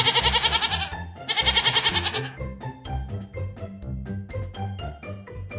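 A goat bleats loudly and close, two long wavering cries in quick succession, followed by softer rhythmic shuffling and tapping sounds.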